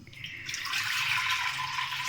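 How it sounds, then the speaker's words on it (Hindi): About a glass of water pours steadily into a pot of Punjabi turnip and meat curry (shaljam gosht), a continuous close splashing rush with no talking. "पानी तकरीबन 1 गिलास।"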